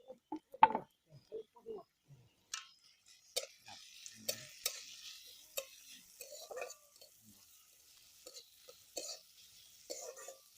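Vegetables for momo filling go into a pan and are stirred over medium heat, giving soft scraping and clattering with faint frying noises in short, irregular bursts.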